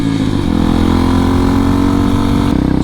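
A rebuilt Sherpa motorcycle engine running close by, loud and steady with a rapid even putter, the pitch shifting slightly near the end.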